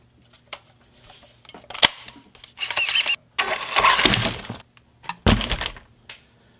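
A small, fast, durable RC buggy powering up and pairing with its remote, sharp clicks and crackles followed by several bursts of whirring electric motor noise, close and fairly loud, with brief pauses between.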